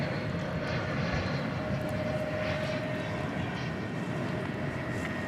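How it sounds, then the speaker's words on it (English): A Cessna 208 turboprop passes at night near DFW Airport: a steady, loud engine drone with a faint whining tone, holding even throughout with no voices. "It's always cool to see the little Cessna 208s."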